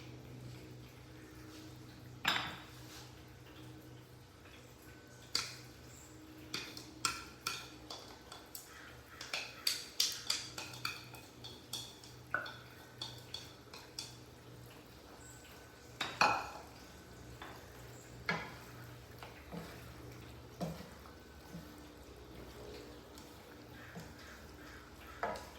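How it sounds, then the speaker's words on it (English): Quiet sizzling in a pan of stir-frying chicken and shiitake mushrooms, with repeated scraping and clinks of a utensil stirring, irregular taps scattered over a low steady hiss. "We just keep continuously stir frying."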